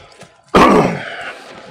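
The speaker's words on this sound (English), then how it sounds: "Sorry about my coughing." One sharp, loud throat-clearing cough from a person bothered by allergies, bursting suddenly after a near-silent pause and then trailing off into a breathy, raspy tail.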